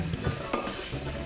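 Spices and vegetables sear in hot oil in a pan for a chickpea dish, giving a brief, close, steady crackling sizzle with no voices.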